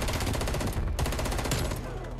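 Death Machine rotary gun in Call of Duty Cold War firing in a rapid, steady stream of loud shots with one brief break, close and sustained.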